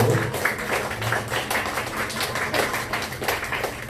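A church congregation claps in thanks during a service, a dense and steady patter of many hands at moderate distance, continuing evenly throughout without speech.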